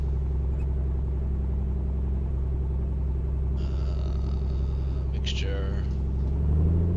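A small aircraft's piston engine idling at the pre-flight run-up position, a steady low drone and rumble that rises slightly near the end, with a person talking over it.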